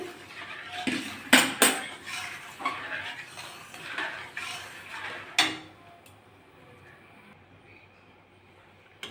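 Metal cookware set down on a lit gas stove in a home kitchen while milk is prepared, with several sharp clanks and clinks of pot and utensils early on, then a quiet hiss.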